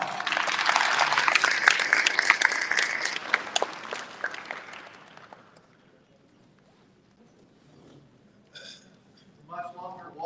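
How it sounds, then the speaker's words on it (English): Applause from an audience at a datathon opening ceremony fills the first five seconds, loud and dense, then fades to near silence, with brief voices near the end. "Give them a round of applause."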